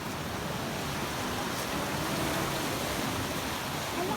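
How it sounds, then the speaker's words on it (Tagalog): Strong ocean waves wash onto a beach in a steady, broadband roar of surf that fills the whole stretch without pause, moderately loud and continuous. "kahit may kalakasan yung alon mga kamigs"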